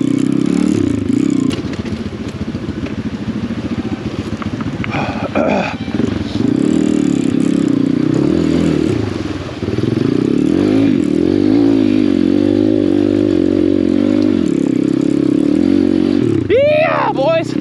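Pit bike dirt bike ridden through deep snow, its small engine droning and revving up and down close by with some scraping and clatter, someone talking over it in places.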